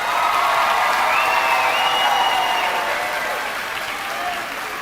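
Sustained applause from a crowd at a high school graduation ceremony, a dense, steady clatter of clapping that fills the hall and tapers slightly toward the end.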